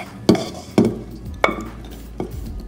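Stir-fried pork belly drops into a clay pot over dried bean curd in four distinct soft thuds with a light clatter, spaced about half a second apart, close and fairly quiet.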